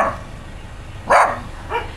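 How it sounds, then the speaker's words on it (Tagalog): An angry dog at a house in a Philippine province gives one loud, close bark, then a second shorter, fainter bark about half a second later over quiet background. "Parang galit tong aso na to ay."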